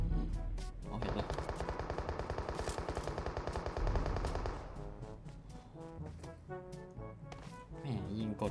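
Rapid automatic gunfire in a video game, a long loud burst of fast shots followed by scattered single shots and short bursts, with someone talking over part of it.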